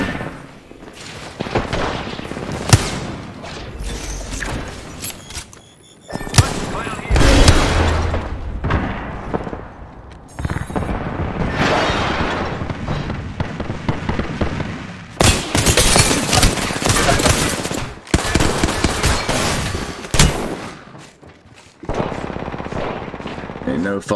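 Rapid bursts of gunfire from an Apex Legends match, loud and dense, with automatic fire and heavy booms chained across the whole stretch and only brief pauses between volleys.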